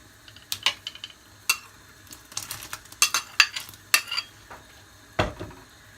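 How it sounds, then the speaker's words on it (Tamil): Chopped tomato, onion and other vegetables are tipped into a chicken soup pot, giving a series of close metallic clinks and clatters of a utensil against the pot, spaced irregularly with short pauses and faint sizzling underneath. "இப்போ வெட்டி வச்சிருக்கிற மரக்கறியெல்லாம் அதே போட்டுடலாம். தக்காளியும் வெங்காயமும்"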